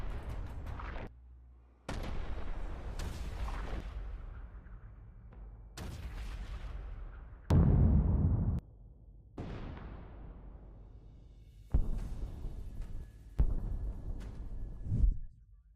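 A string of heavy explosions and artillery blasts from FPV drone strikes and shelling on infantry in ruins in Donetsk. About eight separate booms are each followed by a long rumbling decay, with irregular gaps between them and no speech.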